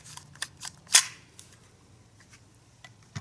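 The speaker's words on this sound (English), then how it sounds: "every time the slide comes back, not only does it open the chamber" Walther CO2 blowback pistol being dry-cycled, its slide snapping back with a few sharp mechanical clacks, one louder crisp snap standing out among lighter clicks at close range.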